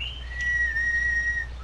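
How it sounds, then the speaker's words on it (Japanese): A character in the horror video game DreadOut whistles a sustained, steady tune of a single held note with a slight waver, fairly loud and alone over a low background hum. "で口笛吹くの？ 煽ってんの？"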